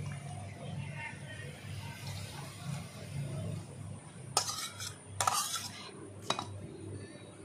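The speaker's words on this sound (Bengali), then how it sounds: "ভালো করে একটু নাড়িয়ে নেব" Fish and Malabar spinach curry is stirred in a pan, with a few bright metal clinks of the spoon against the pan over a low, steady background hum, quiet and close.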